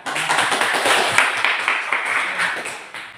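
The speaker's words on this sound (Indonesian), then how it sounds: "tepuk tangan untuk penanya ya" An audience claps for a questioner during a classroom session on the slaughter of sacrificial animals, a steady patter of scattered hands lasting a few seconds at moderate volume.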